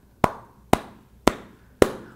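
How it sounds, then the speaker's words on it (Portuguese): Four hollow, muffled claps from cupped, closed hands land at an even, unhurried pace, each a sharp isolated pop with a short decay and silence between. "em contraste com palmas com as mãos fechadas"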